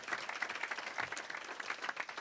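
Audience applause at a conference on mini houses in Sherbrooke, a fairly faint, even patter of many hands clapping with small bursts, no voices over it.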